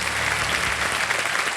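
Studio audience applause on a televised quiz show, a dense, steady clatter of many hands clapping continuously at full strength throughout, with no voices over it.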